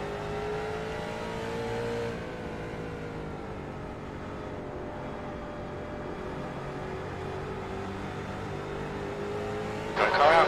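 Street stock race car engines roar in the iRacing sim at Langley Speedway, a loud sustained drone that dips and shifts pitch as cars run close together, ending in a brief harsher burst.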